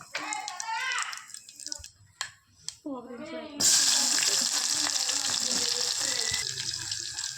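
Spices for tempering sizzle in a hot pan, a loud broad hiss that erupts suddenly and holds steady, preceded by someone talking.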